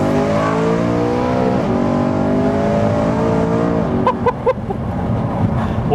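De-catted BMW E92 M3 with DCT gearbox, a loud raw V8 exhaust drone that steps down in pitch through quick downshifts, followed by sharp pops and crackles on the overrun, close up.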